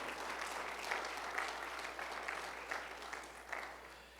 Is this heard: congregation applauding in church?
yes